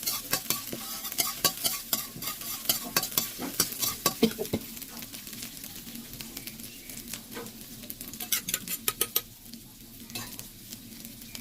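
Pounded dried bird's eye chili, red chili and garlic stir-fried in a little oil for pork basil stir-fry, with steady sizzling and repeated sharp scrapes and clinks of a spatula against the pan, no voices.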